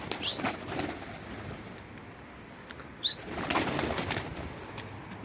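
Pigeons flutter and shuffle nearby with bursts of wing flapping and a couple of short chirps, amid soft background rustling.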